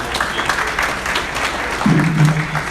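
Clapping from an audience at a realtors' conference and awards event rings out in a brisk round of applause, close and fairly loud, with a short spoken voice rising over it near the end.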